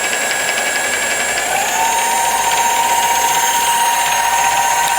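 Mini lathe converted to a brushless motor, cutting under heavy load at around 6 amps without stalling, giving a steady high whine with shifting tonal overtones and constant mechanical noise, close and continuous.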